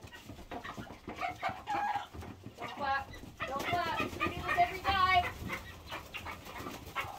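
A small Japanese bantam hen clucks in short bursts amid busy background chatter and rustling, with other birds faintly audible nearby.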